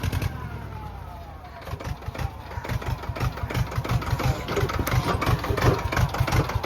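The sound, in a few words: tractor engine running in Kedarnath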